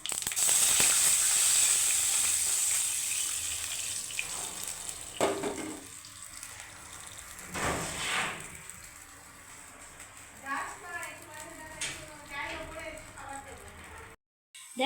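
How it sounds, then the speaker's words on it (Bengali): Tamarind water poured into a hot frying pan brings a loud rushing hiss that fades to a lower sizzle and bubbling, with a few clinks of a utensil; someone speaks over part of it. "এইবারে আমি তেঁতুল জল দিয়ে দিচ্ছি।"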